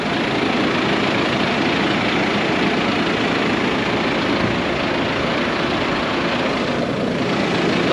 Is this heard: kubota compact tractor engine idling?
yes